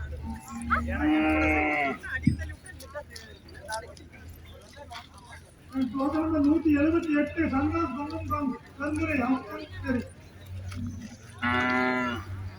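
Traditional native bulls at a crowded Tamil bull gathering give several long, loud moos, each lasting a second or more, spread across the scene while people talk nearby.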